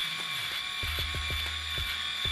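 Xiaomi Mijia S500 electric shaver cutting through a three-day beard, a steady high motor whine with a series of quick low crackling snips as the stubble is cut.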